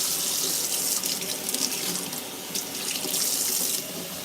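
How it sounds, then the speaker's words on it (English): Lukewarm water runs from a kitchen tap into a sink while a sourdough starter is being fed, a steady close splashing stream lasting several seconds with no talk. "I get a little bit of lukewarm water."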